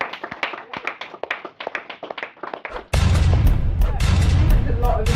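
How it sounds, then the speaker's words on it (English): Audience applause for a speaker at a talk, starting as scattered close handclaps and swelling after a few seconds into dense, loud, continuous clapping from a crowd. "Can we give coachAOG a round of applause?"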